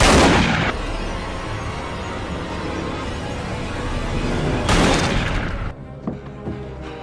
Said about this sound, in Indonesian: Josh dan Jared pun dihabisi si penghuni kejam itu dengan senapan